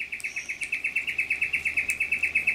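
A small honeyeater calls in a steady series of rapid, bright chirps, about eight per second, close and clear against a quiet outdoor background with no voices.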